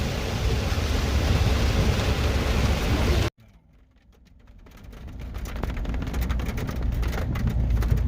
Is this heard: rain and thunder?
yes